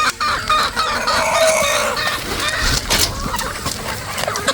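Breeder chickens fed on the ground, with busy overlapping clucks and an occasional rooster crow close by, continuous throughout.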